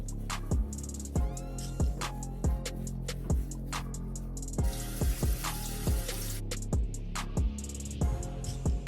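Running tap water at a bathroom sink during a nighttime face wash, with a steady close flow broken by repeated splashes and slaps as hands scoop water to the face at a regular rhythm.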